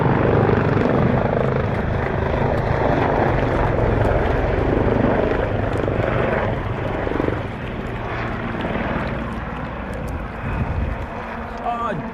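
An aircraft flying a final display manoeuvre roars loudly overhead with a broad, rumbling engine noise that slowly fades toward the end, while people talk underneath.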